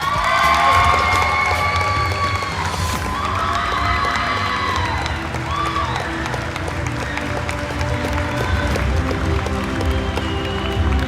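Crowd cheering loudly for a Louisiana Sports Hall of Fame track and field inductee, with whoops, shouts and clapping, children's voices among them, and people talking throughout.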